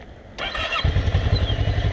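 A motorcycle during a first riding lesson on an oval practice track: an engine bursts into sound and then runs on with a close, steady, throbbing rumble.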